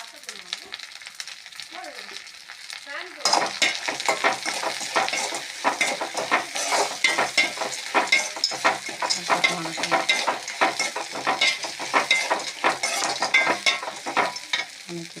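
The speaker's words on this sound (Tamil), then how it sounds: "இஞ்சி, நீங்கள் ஒன்று ஒன்றா போட்டு வணக்கணும், எல்லாம் போட்டு வணக்கணும்" After a quiet start, ginger and fennel seeds sauté in a pan for a ridge gourd chutney, with a busy sizzle broken by repeated scraping stirs and clinks of a spoon against the pan.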